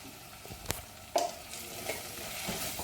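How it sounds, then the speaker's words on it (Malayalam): Tomatoes are sautéed with turmeric and Kashmiri chili powder in a pan, giving a quiet, close sizzle broken by a few sharp clicks of a utensil stirring against the pan. "തക്കാളിയും ചേർത്ത് നല്ലപോലെ ഒരു ബ്രൗൺ കളറായി വരുമ്പോൾ മഞ്ഞൾപ്പൊടി മുളക് പൊടി കാശ്മീർ മുളക് പൊടി എന്നിവ ചേർത്ത് നല്ലപോലെ വഴറ്റിയെടുക്കാം"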